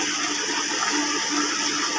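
Tomato and onion puree hitting hot ghee in a pan, a loud steady hiss of sizzling and bubbling heard close up, with no talk.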